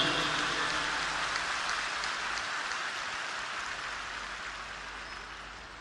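A crowd applauds at a birthday greeting for Dr. Satish during a thanksgiving celebration, a dense, steady wash of clapping that fills the whole stretch and tapers slightly toward the end, with no talk over it.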